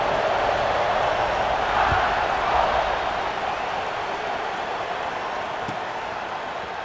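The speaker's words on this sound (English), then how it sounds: "this crowd now ready to get behind them" Stadium crowd in EA Sports College Football 26 roars steadily at an Oklahoma–Alabama game before a kickoff, a broad sustained wash of cheering with a brief swell near the start and a play-by-play voice faintly underneath.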